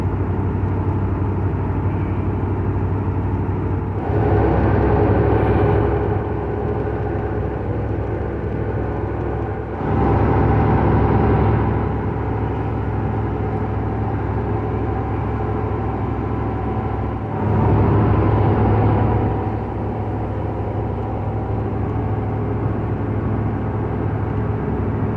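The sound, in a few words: 1998 Ford F150 pickup truck driving on the road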